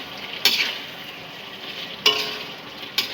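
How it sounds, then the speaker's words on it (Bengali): Chicken kasha stirred and fried in a pan: a continuous, even sizzle of hot oil close by, broken by three sharp bright scrapes of the spoon against the pan at irregular intervals, with no voices. "চিকেন কষা চলছে"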